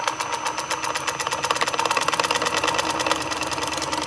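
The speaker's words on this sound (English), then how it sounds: "Now the flywheel goes the opposite direction, anti-clockwise." A coil-driven magnetic flywheel spins anti-clockwise, giving a steady, rapid mechanical pulsing buzz like a small motor running, close and even throughout with no pause.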